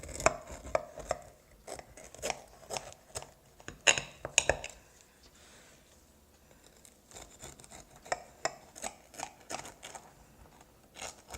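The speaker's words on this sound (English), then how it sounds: "now we're just going to cut a slice." A knife cuts a slice of baked apple pie, a series of crisp crunching cuts and taps against the dish, bunched in bursts with a quieter pause midway.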